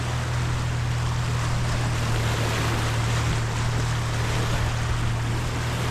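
Waves break and wash steadily on a Lake Michigan beach in Milwaukee, a continuous broadband roar mixed with wind rumble, with no voices.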